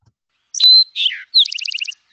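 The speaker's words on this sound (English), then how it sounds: "Love that Towhee." Eastern Towhee singing its 'drink your tea' song, close and clear: a sharp whistled note, a lower buzzy slur, then a rapid trill of repeated notes, heard alone against silence.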